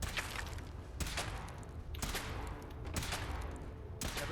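Weapon fire during a power armor suit test in Fallout 4, with four heavy shots spaced about a second apart, each a sharp broadband crack over a steady low rumble of background noise.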